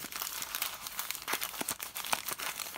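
Paper crinkling close up as a small pocket is folded for a craft embellishment, a steady run of soft crackling rustles without talk.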